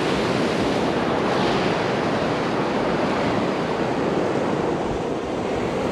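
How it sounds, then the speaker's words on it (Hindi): Sea waves at Harihareshwar beach on the Konkan coast of Maharashtra roar in a continuous, loud wash of surf, with wind blowing across the microphone and no voices. "बाकी समंदर का आवाज़ तो है"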